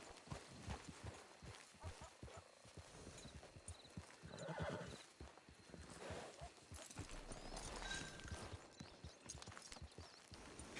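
Horse in Red Dead Redemption Online, steady clip-clop of hooves throughout with a whinny and snorts midway, heard close against a busy game soundscape.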